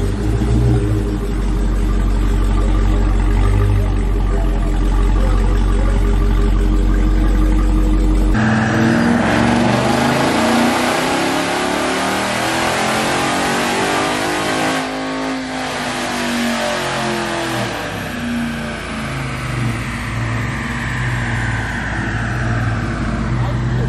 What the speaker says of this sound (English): they're putting the car on the dyno now to see how much he's running